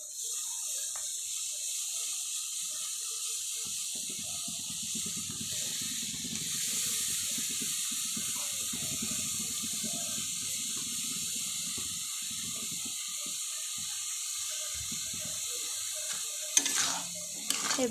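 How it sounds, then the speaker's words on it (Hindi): Mushrooms are washed in turmeric water in a kitchen. Steady, close sloshing and running water continues throughout, with a few clinks and knocks near the end and no speech. "मुझे छतु को हलदी पानी रे धोई देइछि।"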